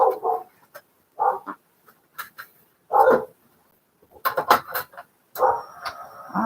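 Dogs in a home, one under a table and others in a front room, give several short, sharp barks in irregular bursts with gaps between, fairly close and loud, with a faint high whimper near the end.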